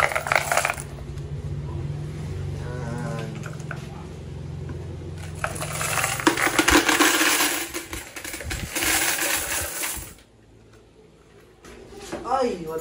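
Coins spilling out of a piso-net coin box at a pisonet shop, a loud rattling metallic cascade with clinks, under someone talking.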